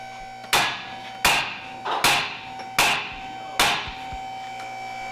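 Five or six hard hammer strikes on metal at a slow, uneven pace, ringing briefly over a steady electrical hum.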